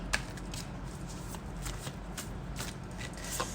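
Tarot cards being shuffled by hand, with repeated soft riffling flicks and slaps in an uneven rhythm, quiet and close, over a low room hum.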